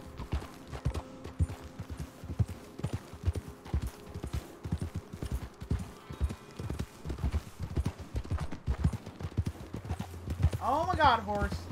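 Horse hooves clip-clop steadily through a Wild West video game ride, a dense run of hoofbeats under frequent talk from a player, with a brief whinny near the end.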